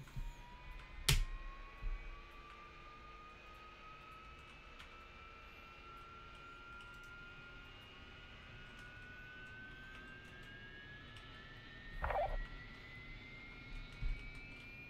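An A-10C jet engine spooling up in the DCS World flight simulator, a quiet steady whine with tones slowly rising in pitch, plus a couple of brief clicks, with no talking.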